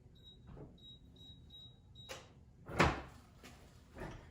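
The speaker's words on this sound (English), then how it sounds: "Let me get this open here." An AMSEC BFII gun safe door being opened: faint mechanical clicks and a soft ringing tone, then a few heavier metallic clunks and a louder latch thud near the end, with no talking.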